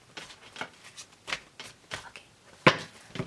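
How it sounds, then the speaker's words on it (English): Tarot cards are shuffled up close in a quick series of papery riffles and slaps, about eight short bursts with one sharper snap near the end. "2 more shuffles."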